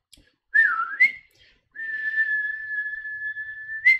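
A person whistles in imitation of Yondu's whistle: a short rising-and-falling phrase, a pause, then one long steady high note ending in an upward flick, clear and close with no talk.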